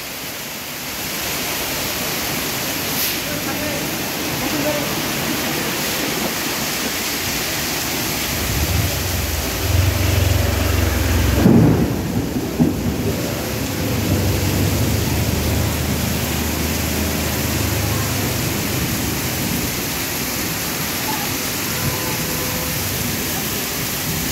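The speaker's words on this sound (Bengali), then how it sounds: "বৃষ্টি দেখছি আমার ভালো লাগছে" Steady rain pours throughout during a thunderstorm, a dense, even hiss, with a low rumble of thunder swelling near the middle and a brief sharper crack.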